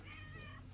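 A cat at a cat house in Port Antonio, Jamaica, gives a single brief, faint meow.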